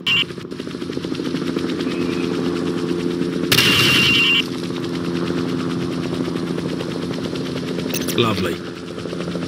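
Steady rapid automatic gunfire hammers at shooting-range targets in Call of Duty 4, a loud continuous mechanical rattle with a brief louder burst midway, as a voice speaks over it.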